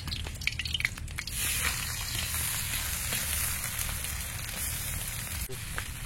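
Chopped onions hit hot oil in a pan while cooking an egg and paneer curry, bursting into a loud, steady close-up sizzle with crackling spatters that continues without pause.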